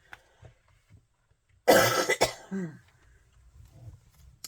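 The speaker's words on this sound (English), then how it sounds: "Excuse me, I'm going to cough again." A single harsh cough bursts out, followed by a short throat-clearing rasp, close and fairly loud against a quiet room, from a person with chronic postnasal drip turning into a sinus infection.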